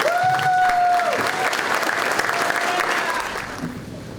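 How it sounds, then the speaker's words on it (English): A luncheon audience at a Gold Star football event claps steadily for Dana Taylor, the applause fading toward the end, with a brief whistle or cheer near the start. "give a big round of applause to Dana Taylor"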